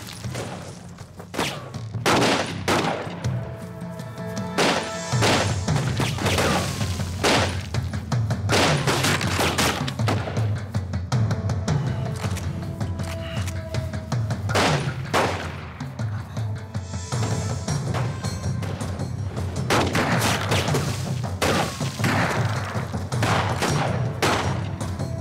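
Gunfire in a dubbed action film about mercenaries and an ambush, sustained loud volleys of shots and rapid bursts with thuds, dense and continuous over about twenty-five seconds with no clear speech.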